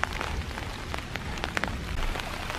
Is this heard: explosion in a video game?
no